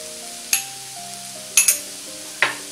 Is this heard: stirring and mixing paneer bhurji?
yes